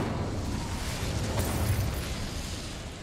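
Incendio fire spell cast in Hogwarts Legacy, a steady, loud fiery roar with a whooshing burst of flame that holds throughout without talk.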